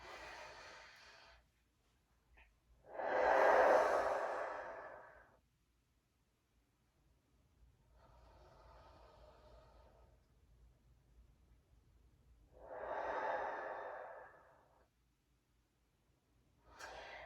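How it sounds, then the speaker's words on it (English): Slow, deep diaphragmatic breaths during a stretching and meditation session: long inhales through the nose and exhales out through the mouth, each a soft airy swell separated by quiet pauses, heard close. "inhaling deeply through the nose and out through the mouth"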